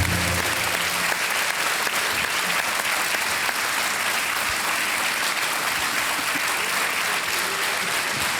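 A studio audience at a televised quiz game show claps in sustained, dense applause that fills the room evenly from start to finish.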